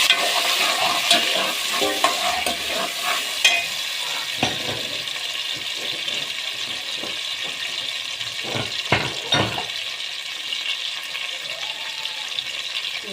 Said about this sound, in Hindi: प्याज को हम चलाएंगे थोड़ा, थोड़ी सी नरम नरम से हो जाएगी